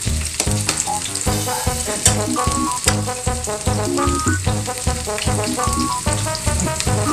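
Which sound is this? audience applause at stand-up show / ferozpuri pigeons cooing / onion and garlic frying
onion and garlic frying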